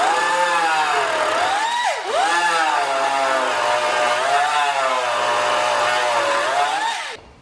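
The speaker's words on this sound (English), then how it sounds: "not an angle grinder, a die grinder, because it's the right angle, it should fit in there" Right-angle die grinder with a small wire brush attachment whining loudly, its pitch dipping and swelling repeatedly under load as it scrubs, before cutting off abruptly at the end.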